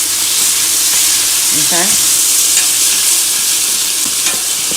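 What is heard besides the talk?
tomatoes added to hot pan, sizzling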